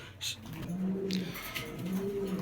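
Soft, low cooing of several pigeons, racing and fancy breeds kept for sale, heard close in gentle repeated phrases against faint background noise, with no speech.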